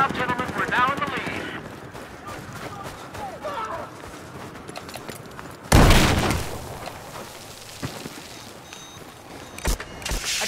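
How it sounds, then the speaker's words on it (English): A grenade blast in Battlefield 4 on the Operation Locker map: one loud, sudden boom midway through, with battlefield noise and voices before and scattered clatter after. "Throwing grenade!"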